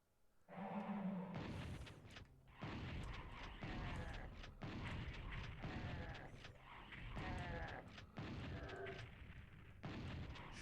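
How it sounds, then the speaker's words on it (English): Gunfire in the 1995 PlayStation Doom while strafing: repeated loud, booming shots in quick succession with brief gaps, dense and close throughout with no talking. "Strafing and shooting is fun."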